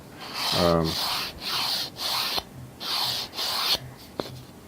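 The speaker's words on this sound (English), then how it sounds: "just take some sandpaper to the edge of that if you need to" Sandpaper rubbing the sharp edges of a hexagonal board game insert tray for Terraforming Mars, a sequence of short rasping strokes with brief pauses between them, close up and with no voices.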